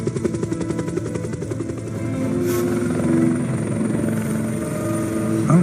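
Helicopter in the PC game Jurassic Park: Operation Genesis, rotor chop pulsing rhythmically at first, then swelling into a loud steady engine roar, with no talking.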